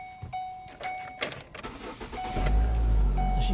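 A car engine, apparently a 2019 Chevrolet Silverado at an auto auction lot, cranks briefly and catches, then settles into a loud, steady low idle close by, with faint clicks and beeps before it fires.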